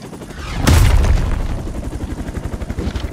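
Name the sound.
explosion in a video game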